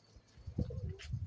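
Pigeons coo softly in a bird-hunting setting, a couple of low throaty calls rising out of quiet background rumble, faint and somewhat distant.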